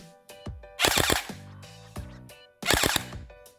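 A Zhenduo X5 gel blaster toy gun firing rapid short bursts, sharp mechanical clacks and whirring, two quick volleys separated by softer clicks of the mechanism, fairly close with no talk.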